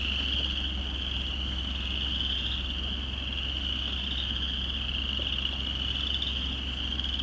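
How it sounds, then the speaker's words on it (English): A loud, dense chorus of spring frogs chirps steadily and without pause near a pasture road, a continuous high trilling that fills the morning air with no voices over it. "Frogs chirping."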